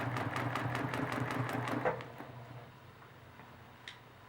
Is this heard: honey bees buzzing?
no